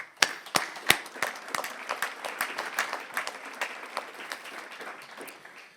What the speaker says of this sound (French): je vous demanderai de bien vouloir applaudir les témoignages là qu'on a eus à l'instant et qu'on va avoir.